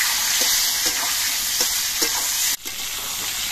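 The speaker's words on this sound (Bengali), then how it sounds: "এবার পটলগুলো ভেজে নিচ্ছি।" Pieces of pointed gourd (potol) frying in hot oil with a loud, continuous close-up sizzle and faint periodic stirring pulses. The hiss briefly drops near the end before resuming.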